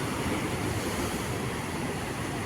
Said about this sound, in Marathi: समुद्राच्या लाटा बघा यार